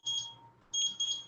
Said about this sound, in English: let me get my timer